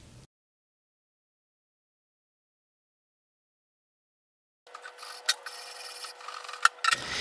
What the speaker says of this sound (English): I'm going to start by sanding the whole thing out.